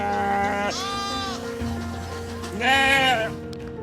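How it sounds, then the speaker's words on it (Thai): Sheep on a farm bleat in two wavering calls with a gap between them. The second call is louder and higher, and both sit over a steady background hum without talk. "แกะที่อยู่ร่วมกันอย่างสงบ"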